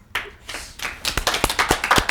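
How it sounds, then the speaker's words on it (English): A small studio audience claps during an interview, starting with a few scattered claps that build into a quick run of sharp, close hand claps. "it says applause break here"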